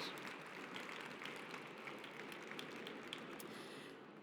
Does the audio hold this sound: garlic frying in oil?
no